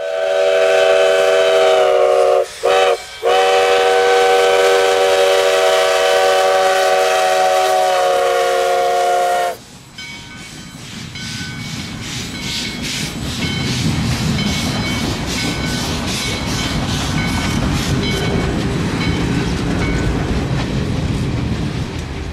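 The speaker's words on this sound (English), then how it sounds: "watching the 101-year-old steam locomotive doing the honors" A 101-year-old steam locomotive's whistle blasts long and loud, briefly broken twice, then gives way to the rumbling, clanking roll of the passing passenger train.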